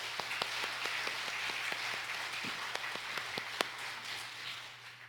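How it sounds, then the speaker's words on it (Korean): A church congregation at a Korean worship service gives faint, scattered applause, the sparse claps sounding over a low, steady hum. "우리 하나님께 영광의 박수 올려드리겠습니다"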